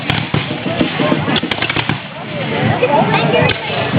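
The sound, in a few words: musket volley fired by American line in War of 1812 reenactment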